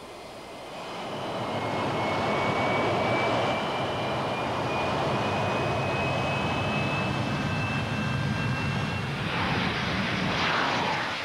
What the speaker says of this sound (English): the X-13 flew like a conventional jet aircraft